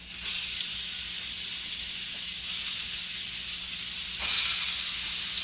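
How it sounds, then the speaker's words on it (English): Steady sizzling hiss from food in a hot pan, continuous and fairly loud, swelling briefly near the end. "It's gonna sizzle!"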